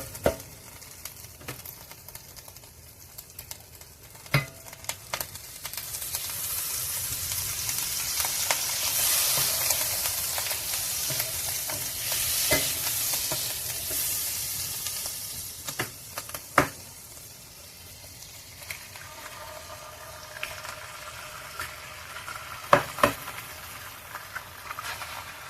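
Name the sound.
eggs frying in a pan beside corned beef hash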